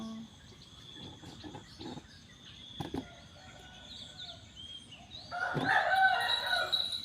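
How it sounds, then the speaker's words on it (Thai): A rooster crows loudly near the end, preceded by scattered clucks and soft bird chirps over a quiet outdoor morning background. "ฟังเสียงไก่ขัน"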